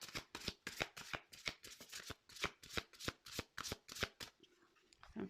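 Tarot cards are shuffled by hand in a quiet room, a rapid series of about a dozen crisp riffling flicks at a regular rhythm, close and soft, ending in a brief hush.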